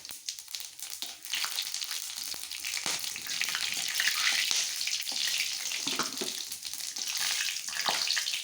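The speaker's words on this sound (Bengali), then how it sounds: "এই দেখো আমার তেলটা গরম হয়ে গেছে। এই যে আমি দুটো তেজপাতা, দুটো শুকনো লঙ্কা, এই যে গোটা গরম মশলা আর জিরেটা দিয়ে দিচ্ছি।" Bay leaves, dried chillies, whole garam masala and cumin dropped into hot oil for an aloo paneer sabji, a loud, steady sizzle and spatter that flares after a brief quieter start and keeps crackling close up.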